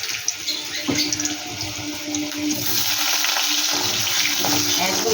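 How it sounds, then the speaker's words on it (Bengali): Potatoes added to a pan with a little oil after a black cumin tempering start frying, with a steady sizzling hiss that swells midway and continues loudly to the end, mixed with some watery, stirring-like sounds. "এবার আলুটা দিয়ে দিচ্ছি।"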